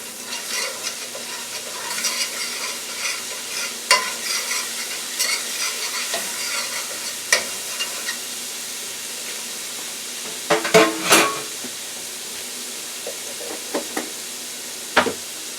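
Garlic fries in olive oil in a frying pan, a soft steady sizzle broken by scraping stirs and a few louder knocks of a utensil against the pan, with no talk.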